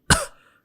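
A single sharp cough, close and abrupt, with a short fading tail, used to find the false vocal folds.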